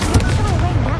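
A fire spell cast in the video game Hogwarts Legacy on PS5 goes off as a loud, dense burst of booming, crackling impact that fills the whole second without a break.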